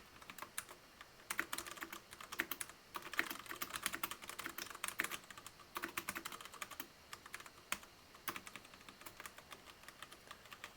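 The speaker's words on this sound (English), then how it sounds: "now I just have to test how loud my keys sound." Fast, steady typing on a mechanical keyboard fitted with Cherry Brown switches, a dense run of close, crisp key clicks with irregular rhythm and no talking.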